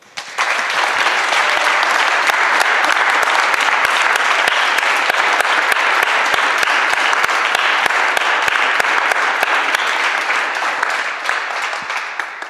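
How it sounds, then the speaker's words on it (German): A live audience at a literary salon reading event breaks into sustained applause, a dense, even wash of many hands clapping that holds steady for about twelve seconds before easing slightly at the end. "Erstmal ein Applaus für Sie beide."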